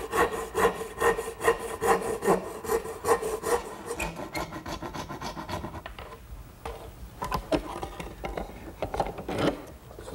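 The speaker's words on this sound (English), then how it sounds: "Now here I'm using my dovetailing saw to notch the bottom of the tenon." A dovetail saw cuts a notch into the bottom of a wooden tenon for a sideboard, producing steady, rhythmic rasping push-pull strokes close up that continue for about ten seconds without any voices.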